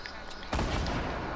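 A burst of gunfire in the video game Fortnite breaks in sharply halfway through, a loud crackling volley that keeps rumbling, with a voice talking faintly over it.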